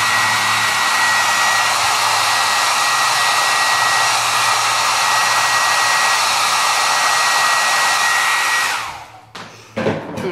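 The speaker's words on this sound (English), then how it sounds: "So I'm gonna grab my blow dryer and blow some of those extra fibers off." A handheld blow dryer running on its cool, high setting to clear loose lash fibers, a loud steady close-up whoosh with a fine whine that runs unbroken for nearly nine seconds, then cuts off, followed by faint handling noises.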